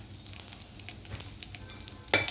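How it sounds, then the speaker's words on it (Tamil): Urad dal, cumin and dried red chili fry in a hot pan for amla rice, crackling in a steady close sizzle with small pops and a brief louder stir near the end. "இதை நல்லா இந்த உளுந்தை வறுத்து எடுத்துக்கிடுவோம்"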